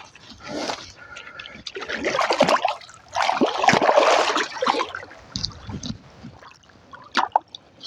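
A 7.4 kg, 33-inch channel catfish from the Red River is let go into river water at a flood spillway, with a run of close splashing and sloshing that fades into softer trickles.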